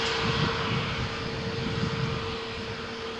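A passenger airliner roars down Malaga Airport's runway 13 on its takeoff roll on a stormy morning, a loud, steady engine drone with a sustained tonal whine running the whole time and no voices.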